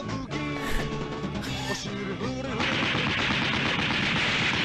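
Gunfire in a Japanese Spider-Man TV show, rapid rattling shots over dramatic music that swell into a dense, steady barrage, with no talk.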